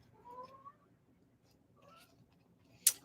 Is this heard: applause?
no